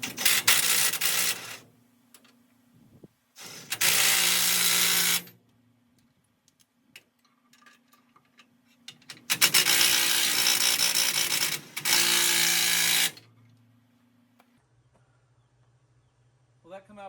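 A ratchet bolts up AN adapters on the power steering lines of a 1964 Ford F100 with a Crown Vic swap, sounding as four loud, rasping bursts of a second or two, separated by quiet gaps, with a voice talking between them.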